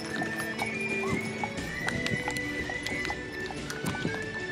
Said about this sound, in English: Another set of horses coming.